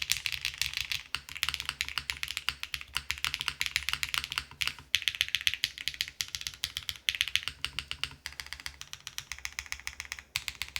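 Rapid keystrokes on a Paper80 mechanical keyboard fitted with GMK keycaps, tapping out a dense, uneven run of crisp clacks that continues throughout at a fairly quiet level.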